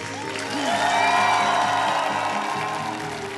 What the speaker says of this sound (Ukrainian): Гордо йдемо зі сцени під оплески.